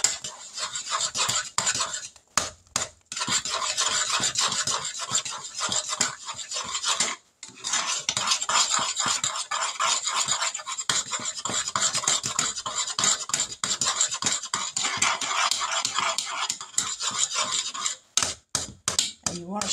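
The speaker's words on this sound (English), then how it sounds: "let's give this a stir. Get that marshmallow cream all mixed up in there." A spoon scraping and clanking against a pot while marshmallow cream is stirred into peanut butter fudge, rapid repetitive rasping strokes, close and continuous with a few brief pauses.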